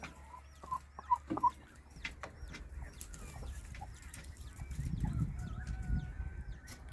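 Newly hatched chicks and a hen in a chicken coop, a few sharp peeps and clucks bunched early on, then faint scattered cheeping over low rustling and background noise at moderate distance.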